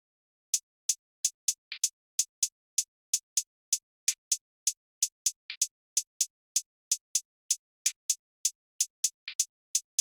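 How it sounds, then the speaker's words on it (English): Crisp, high hi-hat hits from a UK drill beat tick out a steady programmed pattern, with occasional quick doubled rolls between the regular strikes, heard alone with no other drums. "So the hi-hat sounds like this."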